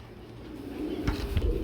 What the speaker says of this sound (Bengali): শৌখিন কবুতর বেবি এখনই দেখেন কি সাইজ চলে আসছে